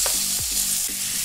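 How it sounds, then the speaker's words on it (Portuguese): Chopped chicken for yakisoba fries in a pan with a steady close sizzle, broken by a few scraping stirs of a utensil. "Agora a gente coloca o frango aqui picado."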